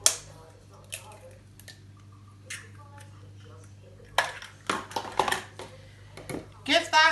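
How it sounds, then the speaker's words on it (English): Crack of an egg into a jug holding 150 ml of milk while making pancake batter, heard as a few sharp taps and clinks near the microphone, with quiet gaps and a low steady hum underneath. "In my jug here, I've got 150 mils of milk, and into that, I'm going to crack 1 egg."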